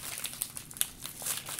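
A plastic bag crinkles and crackles in irregular bursts as it is pulled open while unboxing an Asus Zen AIO Pro all-in-one PC, with sharp close rustles and no talking.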